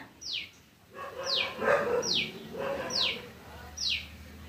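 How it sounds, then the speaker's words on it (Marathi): A koel calls from a village garden, repeating a sharp rising-falling note about five times at an even pace, fairly close and clear. "कोकिळ आले खायला"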